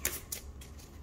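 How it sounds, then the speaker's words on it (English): Tarot card deck being shuffled by hand, two quick soft riffling bursts followed by a faint rustle, close and quiet, with no talk. "Shuffle."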